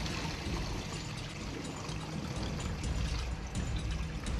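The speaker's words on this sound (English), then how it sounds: "The water's coming in the room through the air conditioning vent." Water pouring and splashing into a room through an air conditioning vent during a flood, a steady, continuous rushing stream at low level with no talk.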